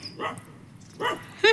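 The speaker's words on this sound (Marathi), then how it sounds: "बघा कसा भांडतोय हा कुत्रा डुकरांसंग" A dog barks and yelps in short bursts while fighting pigs, with a sharper bark at the end, fairly close.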